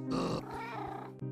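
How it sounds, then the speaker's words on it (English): A cartoon cat from a sad Minecraft animation lets out a strained, drawn-out meow with a growling edge. It is close, loud and carries alone for about a second before it cuts off abruptly. "Oh, look at this cat."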